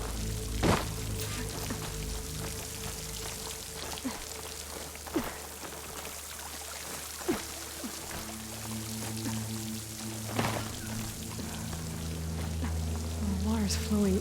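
Water pours and flows into a rock wall beside a waterfall in the video game Horizon Forbidden West, a steady rushing wash with a low droning hum beneath and a few soft knocks.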